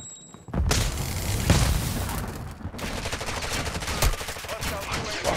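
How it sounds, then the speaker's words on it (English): A Semtex grenade blast in Call of Duty: Modern Warfare II, a loud sudden boom followed by sustained rattling gunfire and crackling combat noise that stays dense and close throughout. "throwing Semtex"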